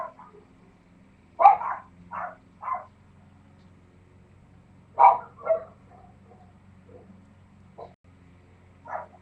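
Dogs bark outdoors on a summer day, a few sharp barks in two short bursts separated by quiet, moderately distant over a low steady hum.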